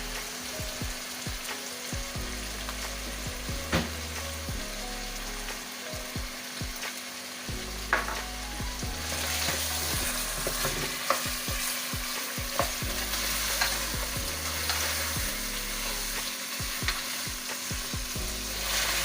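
Chicken qorma masala with ginger powder frying in a pot, a steady loud sizzle running throughout while a spoon stirs and scrapes at intervals, with no talking.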